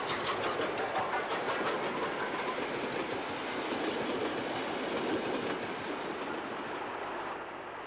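A GWR pannier tank steam locomotive runs through south Wales toward Pontypool Road from Neath. A continuous, fairly loud rumble and clickety-clack of wheels on rail holds steady for about eight seconds.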